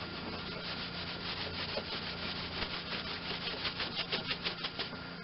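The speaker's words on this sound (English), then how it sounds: "I'm just going to try one of these scuff pads" Brown scuff pad rubbed back and forth over a John Deere 318 mower deck, giving steady close abrasive scrubbing with rhythmic strokes that grow more pronounced toward the end, no voices.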